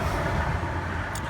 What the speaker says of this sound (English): A little bit of traffic here, so excuse the noise